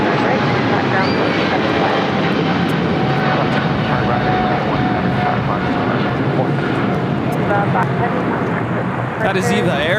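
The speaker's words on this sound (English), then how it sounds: "That is Eva Air Flight 5 taking off to Taipei on a 777-300ER." EVA Air Boeing 777-300ER taking off from LAX bound for Taipei, a steady loud jet roar holding through the whole stretch, with faint radio chatter underneath.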